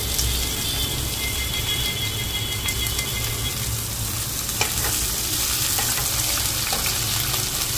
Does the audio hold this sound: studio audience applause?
no